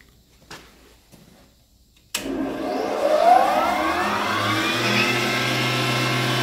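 A 4-kilowatt motor starts with a sudden jolt, then revs up to about 9000 rpm. Its steady whine climbs in pitch and settles into a loud, sustained hum.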